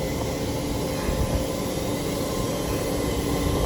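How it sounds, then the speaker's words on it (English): An 81 class diesel locomotive hauls a coal train through Moss Vale, a steady, loud low rumble and drone that holds constant with no break, no voices. "a coal train"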